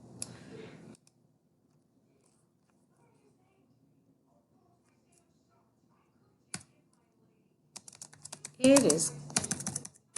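Computer keyboard typing comes in a short burst at the start, then again as a busier run of clicks near the end, with a brief spoken word and long quiet stretches between.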